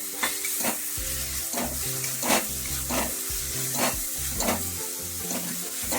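Fried eggs get stirred into a sizzling spice masala for dhaba-style egg tadka. A loud, constant sizzle sits up close while a spatula scrapes the pan in a repeated, rhythmic stirring pattern, with no voices.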